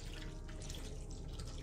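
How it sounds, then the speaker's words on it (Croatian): Water is poured over potatoes in a baking dish, a soft, steady trickling and splashing running for under two seconds, close but quiet, with no speech. "Preko dodajte još vodu."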